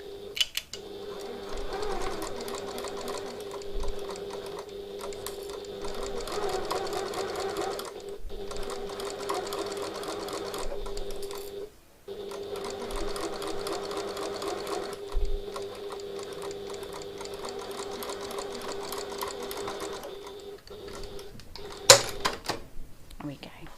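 A home sewing machine stitches a piped pocket onto a tote bag, its steady rapid whirring running close and loud in long bursts with brief pauses, plus a soft snip-like click near the end.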